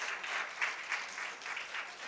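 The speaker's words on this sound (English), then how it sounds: "Let's have a thunderous round of applause as he walks up to the stage as well." An audience applauds steadily as a speaker walks on stage at a conference B2B session, a dense, even wash of clapping from a crowd, moderately distant and without pause.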